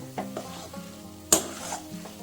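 A spoon stirs a thick, sticky coconut and jaggery filling in a pan, giving soft scraping strokes with a faint sizzle underneath and one sharper clack partway through.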